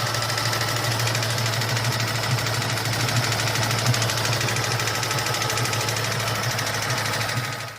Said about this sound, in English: just the radiator fan I believe cracked